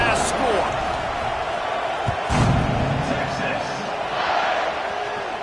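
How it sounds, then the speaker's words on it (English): A football stadium crowd in a video game buzzes and roars after a touchdown, a steady loud rumble of cheering with brief surges, under a play-by-play commentator's voice. "this crowd is buzzing after that last score"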